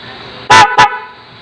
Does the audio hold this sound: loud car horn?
yes